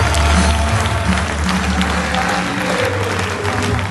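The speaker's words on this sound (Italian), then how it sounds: "lunghissimi applausi hanno accolto il feretro di Andrea Dorno" Long, sustained applause from a crowd at a funeral in Avetrana as the coffin arrives, a thick continuous wash of clapping with a low hum underneath and no break.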